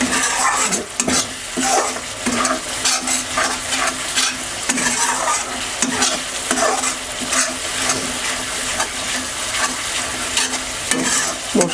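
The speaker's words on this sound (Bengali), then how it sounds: "মশলা থেকে প্রায় তেল ছেড়ে এসেছে, এবার দিয়ে দেব কচুটা।" Steamed man kachu (giant arum) fries in oily spice paste for a katla fish curry. Close, busy stirring scrapes repeat rapidly over a continuous loud sizzle with no talking.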